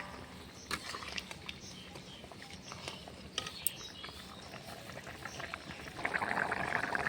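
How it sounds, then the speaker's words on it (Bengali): A pot of Bengali bata fish curry with greens stalks simmering, giving a faint, close bubbling patter that swells into a busier boil near the end, with no voices. "দেখো তরকারিটা কি সুন্দরভাবে ফুটে উঠেছে"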